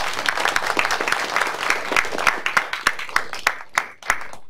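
Audience applause in a classroom lecture, a dense burst of clapping that thins into scattered individual claps toward the end.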